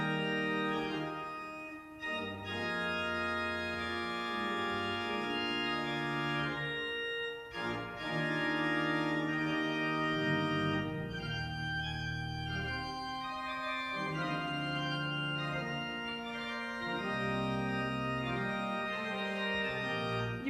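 A Bach organ prelude opens with its stately, declamatory French-overture-style Father theme, full sustained chords with a deep pedal bass, heard continuously and fairly distant in a reverberant room with no talking.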